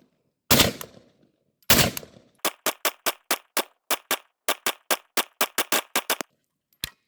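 An SR-45 pistol fires a sharp series of shots, two separate loud reports followed by a quick, fairly regular run of about fifteen cracks, then one faint last shot.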